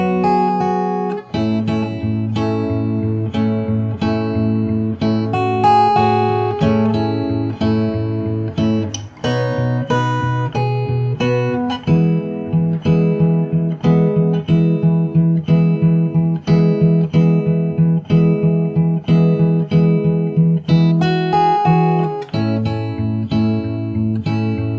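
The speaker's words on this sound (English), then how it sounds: "So I'll play the chorus from the start till this point really slow" Fingerstyle acoustic guitar plays the chorus of a song slowly, with sustained bass notes under plucked melody and chord tones, loud and close, a steady unhurried rhythm with brief pauses between phrases and no talking.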